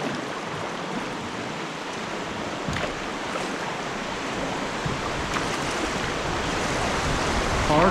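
Waves and rushing water churn steadily around a canoe paddled hard forward on a wilderness river, a broad continuous wash with faint splashes and no voices.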